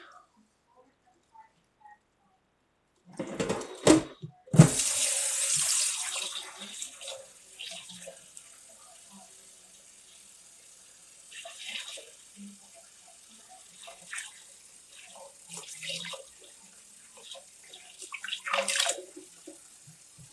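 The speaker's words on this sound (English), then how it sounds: "just rinse it off once more, and then I'll start rubbing between my hands and getting all the caps off" Nixtamalized Hopi blue corn is rinsed under running tap water, a short burst of flowing and splashing water followed by quieter sloshing and a few intermittent splashes of the kernels being handled.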